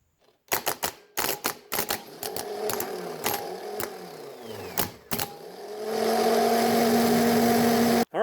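LS 5.3 starter motor bench-tested by jumping the solenoid: a string of sharp clicks and short whirring bursts, then a sustained loud whine of the spinning motor before a final clack.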